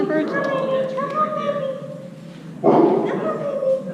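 Puppy at a basic obedience class yipping and whimpering in short bursts, close by, mixed with ongoing indoor voices and one louder bark-like burst near the end.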